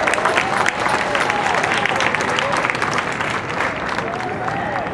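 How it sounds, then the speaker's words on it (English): Audience applause at a special operations exercise demonstration in Tampa, Florida: sustained, dense clapping from a large outdoor crowd, steady throughout with no clear pauses. "Please give them all a round of applause."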